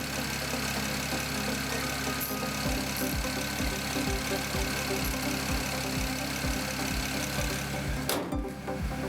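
A BMW 335i engine runs steadily after heavy maintenance, a close, continuous idle with a regular low thumping pulse throughout and a brief clunk near the end.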